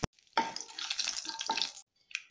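Mustard seeds and cumin dropped into hot oil for an ivy gourd fry give a close, brief hissing sizzle of about a second and a half, fading out abruptly, with a faint clink at the end.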